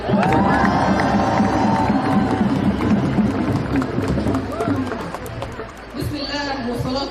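A large crowd at an outdoor NYC rally cheers and shouts loudly and without a break, with shrill whistle-like cries near the start and many overlapping voices.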